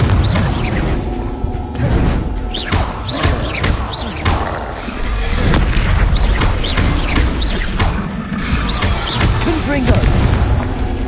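Confringo fire spells burst repeatedly during a Hogwarts Legacy duel, a run of booming thuds and impacts layered with game effects, loud and close, while a voice shouts spell names over them.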